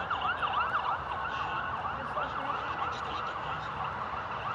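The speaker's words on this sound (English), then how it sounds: "Look at the number of ambulances here." Several ambulance sirens wail together in a busy city street, their rising and falling tones overlapping continuously over steady traffic rumble, fairly close and loud throughout.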